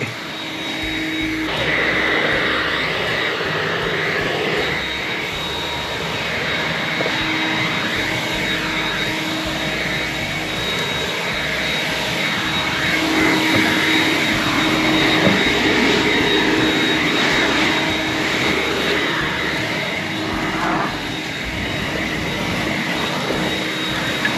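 A powerful blower roars continuously at close range, a steady loud whooshing drone with a high whine that holds without letup.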